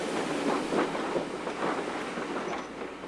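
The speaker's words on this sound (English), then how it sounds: "Here, the 210 number 3672, also known as the Dame Vera Lynn, reverses into Gothland." The 2-10-0 steam locomotive No. 3672 Dame Vera Lynn reverses into Gothland, giving a steady, close, broadband rumble of a moving train with faint rhythmic wheel noise throughout.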